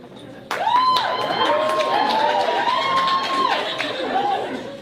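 A comedy show audience erupts into cheering and whoops with mixed crowd chatter, loud and sustained from a sudden start, with high shouted tones rising over the roar.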